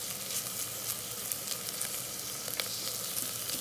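Grated ginger and garlic frying with chopped onion in an Instant Pot, giving a dense, continuous close sizzle with faint crackles scattered throughout and no voices.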